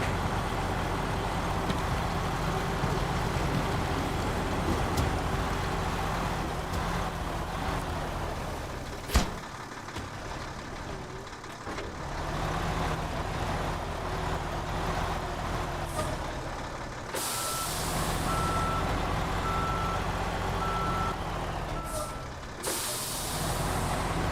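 A heavy truck engine drones steadily in the Snowrunner video game, with a sharp clunk midway and a series of evenly spaced reversing beeps near the end, alongside bursts of air hiss.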